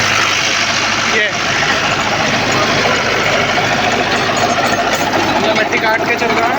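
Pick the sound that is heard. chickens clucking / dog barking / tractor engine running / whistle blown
tractor engine running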